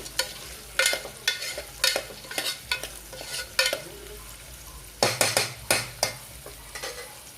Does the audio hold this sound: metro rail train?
no